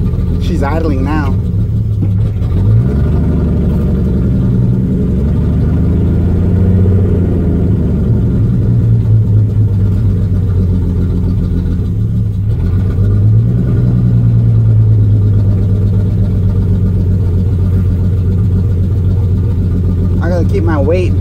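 A car engine idles in a loud, steady low drone close by, its pitch wavering slightly now and then.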